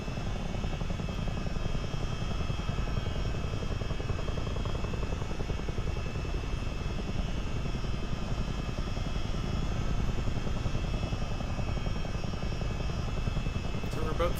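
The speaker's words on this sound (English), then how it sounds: "So as I mentioned, this is a military helicopter." A CH-47D Chinook military helicopter in a flight simulator game, a steady rotor and turbine drone holding at an even level throughout, with someone talking over it.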